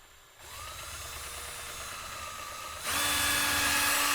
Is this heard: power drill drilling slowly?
yes